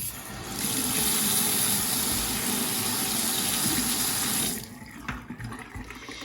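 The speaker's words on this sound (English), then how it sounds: "And then I give it a rinse." A Lamy 2000 fountain pen is rinsed under a running tap, with a steady, loud gush of water into a sink for about four seconds before it shuts off, leaving faint drips and handling noises.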